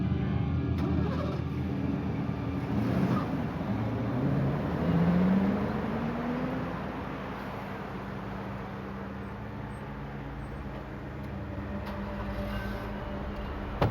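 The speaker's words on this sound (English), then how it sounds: "He grabbed his bags and drove off in the victim's car." A Mercury Cougar car driving away, a steady engine drone with a gentle rise in pitch as it pulls off, fairly close and continuous without talk.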